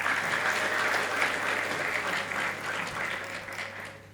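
A seated audience at a church students' graduation ceremony gives sustained, even applause, a dense wash of many hands clapping at moderate distance with a steady hum underneath, no voices standing out.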